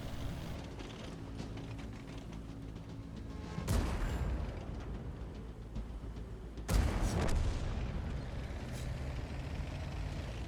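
Two heavy tank cannon shots boom in World of Tanks, a few seconds apart. Each is a sudden loud blast that rolls off into a long decay over a constant low engine drone.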